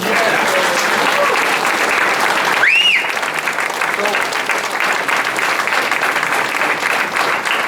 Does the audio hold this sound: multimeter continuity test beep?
no